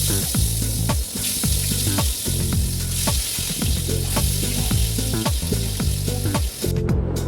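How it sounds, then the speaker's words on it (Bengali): Rohu fish frying in hot oil in a wok, producing a loud, continuous crackling sizzle with dense pops and spits throughout, close up and without speech. "মাছের দুই পাটি আমি ভালো করে ভেজে নিয়েছি"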